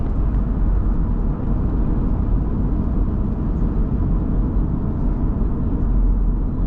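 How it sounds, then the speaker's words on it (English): Dense road traffic in Atlanta rolls past as a steady, loud, low rumble of engines and tire noise with no distinct individual vehicles and no talking. "Look at all that traffic."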